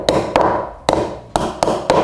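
A hammer taps staples flush on Hardie plank cladding, six sharp, close knocks at uneven intervals with short ringing decays.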